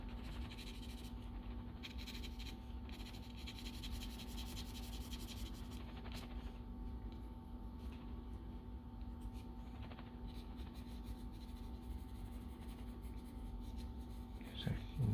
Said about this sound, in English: This paper has a bit of a texture to it, so it's not the most ideal for a pencil drawing